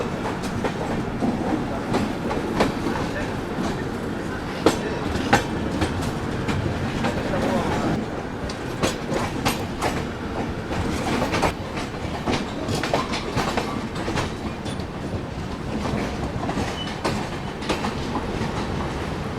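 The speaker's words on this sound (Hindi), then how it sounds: "अमरकंटक एक्सप्रेस जो दुर्ग से भोपाल के बीच में चलती है, इटारसी का वैप 7 के साथ रायपुर डिपार्ट करते हुए" Amarkantak Express departing Raipur behind an Itarsi-based WAP-7 electric locomotive, wheels clattering steadily over rail joints at close range with a continuous rolling rumble and occasional sharp clicks.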